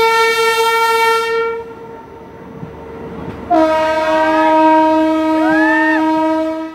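A train on the Janakpur–Jaynagar railway sounds a long, loud horn, then after a brief lull blasts the horn again over a low rolling rumble, close by.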